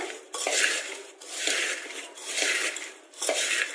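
Spicy garlic puffed rice is tossed and mixed in a bowl, giving dry rustling sweeps broken by clinks of a spoon against the bowl, repeated in about four steady strokes close by.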